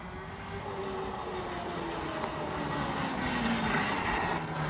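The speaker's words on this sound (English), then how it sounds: "It's just the noise of the electric engine and the tires really is the only noise you're going to get out of it." An electric mini bike rolls past with a steady low hum from its electric motor and tire noise on the ground, holding at an even level with a couple of brief louder bumps near the end.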